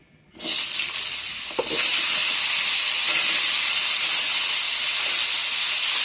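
Cut, washed potatoes hit a hot pan for a potato and bori curry, setting off a sudden loud sizzle that settles into a constant, close hiss with faint stirring scrapes.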